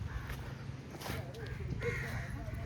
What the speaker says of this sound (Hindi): चील कौआ सब भाग रहे हैं इस पे